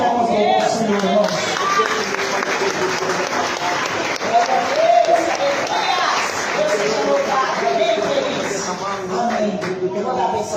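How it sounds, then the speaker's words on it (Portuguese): Congregation applauding in church during a family worship service, sustained dense clapping with voices mixed in throughout. "E as palmas do nosso Senhor,"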